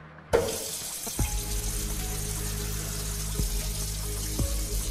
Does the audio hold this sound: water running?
yes